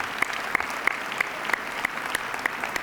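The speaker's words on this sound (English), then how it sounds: "Let's give them another round of applause" Applause from a banquet audience rolls on steadily, a dense bed of clapping with a few sharper individual claps standing out at regular intervals.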